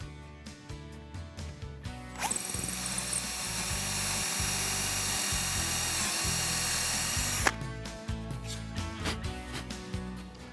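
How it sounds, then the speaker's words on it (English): A power drill bores a hole through a miter box turntable, running loud and steady for about five seconds in the middle, with quieter workshop handling noises before and after. "I can lock it down and drill the second hole"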